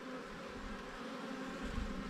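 Honeybees buzz around an open hive during an inspection, a soft, continuous drone of many insects with slight swells in loudness, fairly quiet and without any talk.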